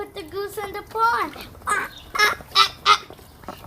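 A goose honks in a pond, giving a series of short, loud, nasal honks in the second half. A brief voice-like call comes first.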